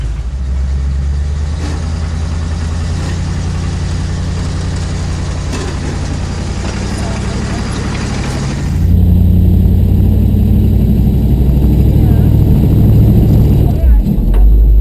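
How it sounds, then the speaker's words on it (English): An off-road rock-crawling vehicle's engine drones steadily while its front tire spins on rocks, the roar rising and growing louder partway through and holding heavy to the end. "My front tire over there spinning."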